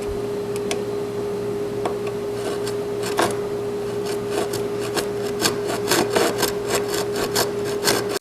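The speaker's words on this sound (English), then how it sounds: "The plan starts with me cutting this this bad tenon off." A hand saw cuts off a bad tenon on an oak kitchen chair with close, steady rasping strokes. The strokes grow sharper and more rhythmic toward the end, over a constant low background hum.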